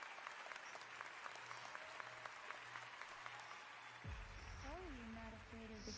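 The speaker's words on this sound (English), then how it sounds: "Round of applause." An audience applauds steadily for about four seconds in a dense, even patter, then the clapping gives way to a low rumble and a voice speaking over it.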